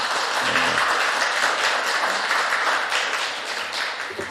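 A church congregation claps together during a Wednesday worship service, a dense, steady wash of applause that holds at an even level for several seconds before easing slightly at the end.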